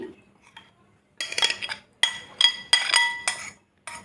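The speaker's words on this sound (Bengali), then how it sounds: "ঢেলে দিলাম এইভাবে এখন আমি আবার মাখাই নেব" Spices are poured in and tandoori chicken masala is mixed in a bowl, with sharp clinks and clatters of a utensil on the dish in short bursts separated by brief pauses.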